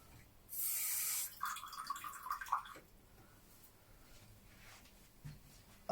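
Water is poured into semolina fishing bait dough in a brief gushing burst, followed by a light trickle, soft drips and faint handling noises, fairly quiet overall.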